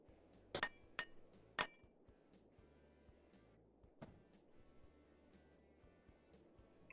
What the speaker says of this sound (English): use a hammer to break it.